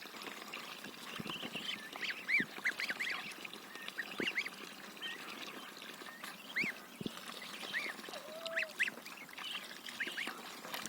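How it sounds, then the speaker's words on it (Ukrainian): Young ducklings and goslings peep and chirp in quick, high, scattered calls, close by, with an occasional low honk among them. "Тут у нас три гусенятки а то все решта каченята."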